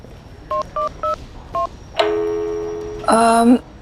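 Four quick touch-tone beeps from a phone keypad, followed by a longer steady electronic tone and a brief harsher tone at the end.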